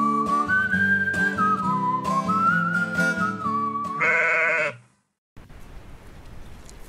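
Two castrated Ouessant dwarf sheep rams bleat in a run of high, wavering calls that stop abruptly near the end, leaving faint background hiss.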